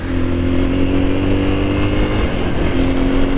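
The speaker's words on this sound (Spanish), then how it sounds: "Qué linda moto que tenés, Ari." A motorcycle engine drones steadily at high revs close by, its pitch holding nearly constant with a slight dip near the end.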